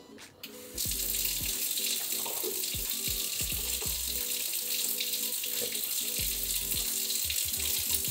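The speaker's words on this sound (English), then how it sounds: "then run the water and just just check for leaks" Water running from a kitchen sink tap just after a clogged drain is cleared, a steady loud rushing hiss that starts abruptly after a few clicks and continues unbroken, with faint thuds and clunks underneath.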